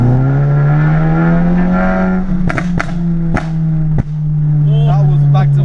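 A 350bhp Golf GTI, front-wheel drive, holds a loud sustained high rev close by, broken by four sharp exhaust pops and bangs in quick succession around the middle, with the engine droning on steadily after them.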